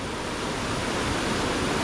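Water from the Ermayi falls in the Charmadi area rushes past as a steady, dense roar, a close and continuous wash of noise throughout.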